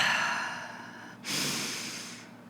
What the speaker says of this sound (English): So let's take another deep breath.